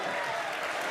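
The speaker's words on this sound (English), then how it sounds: "you can hear the crowd" A crowd cheering and applauding at a Red Bull Wololo Age of Empires live event in London, a brief dense wash of clapping and roar.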